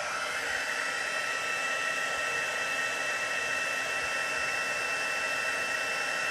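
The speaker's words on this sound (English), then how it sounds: "The heat tool was cold, so it takes a minute for it to warm up." An embossing heat tool blows hot air in a steady, continuous whooshing hiss, close and unbroken, with no talking.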